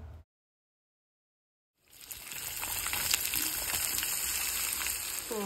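Onion, ginger, curry leaves and garlic dropped into hot oil for a kadhi tadka, a steady close sizzling and crackling that begins after a short silence and continues unbroken.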